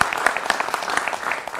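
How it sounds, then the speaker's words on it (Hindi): Applause from a studio audience welcoming guests on a Hindi television debate show, a dense, steady burst of clapping with sharp individual claps standing out, filling the short moment with no speech. "जोरदार तालियां हमारे मेहमानों के लिए"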